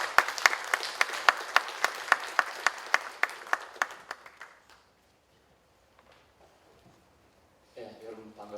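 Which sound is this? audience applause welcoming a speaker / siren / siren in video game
audience applause welcoming a speaker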